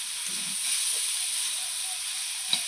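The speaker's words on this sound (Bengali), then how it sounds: "এখন এটাকে ভালো করে ভেজে নিই ভালো করে ভেজে নিলেই হয়ে গেল আলু বটপুটি ভাজা" Soybean bori and potatoes fry in a pan with a steady, close, continuous sizzle and hiss, broken only by a faint tap near the end.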